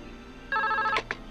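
A telephone rings inside a cartoon scene, giving one steady electronic ring-tone burst followed by two short higher chirps, fairly loud and alone with no talk.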